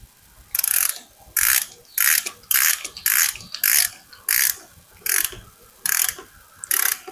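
Torque wrench tightening LS engine valve cover bolts, a ratchet clicking in about ten even bursts with short pauses between strokes, close and clear.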